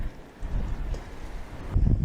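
Strong desert wind gusting at 50 to 55 miles an hour with heavy rain, roaring low and buffeting the microphone, swelling into a louder gust near the end.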